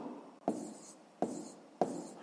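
Pen strokes on paper while working a sixth-grade maths exercise: three short scratching bursts, each with a sharp onset and a fading tail, spaced about a second apart, close and fairly quiet.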